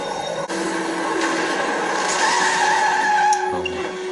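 A car skids during a crash scene in a TV show, with a sustained tire squeal and screech rising over engine noise for several seconds before cutting off.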